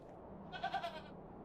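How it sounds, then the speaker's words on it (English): A single goat bleats in the Hob's Barrow video game, one short, faint wavering bleat in the middle, surrounded by quiet. "I'm not fond of goats at the best of times, but this one seems particularly disagreeable"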